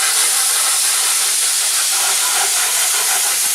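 Tomatoes sizzling in a hot pan over medium heat, a steady loud broadband hiss and crackle that holds constant throughout, close up with no talking.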